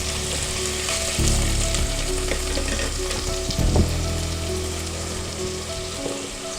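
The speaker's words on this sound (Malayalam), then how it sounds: "സവോള നന്നായിട്ട് വഴന്നു വരണം, എന്നാലേ ഈ കറിക്ക് ടേസ്റ്റ് ഉണ്ടാവുള്ളൂ" Sliced onions with salt sautéing in hot oil in a pan for a potato curry, a steady close sizzle and crackle with occasional stirring scrapes and knocks, no talk.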